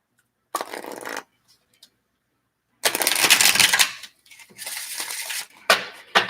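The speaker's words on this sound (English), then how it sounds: "I'm going to do two more shuffles, and whatever card comes to the bottom of the deck" A deck of tarot cards is riffled and shuffled in quick bursts, a short one first, then longer crisp flurries after a pause, close and loud with no talking.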